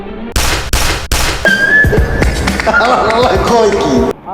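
Three sharp bursts of video game gunfire open the clip, followed by wavering whistle-like tones and murmuring sounds.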